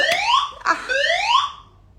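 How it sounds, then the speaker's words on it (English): A loud electronic fire alarm test with rising, sweeping tones repeats twice, broken by a couple of sharp clicks, then fades away. "Attention. Fire alarm. Evacuate now. This is just a test."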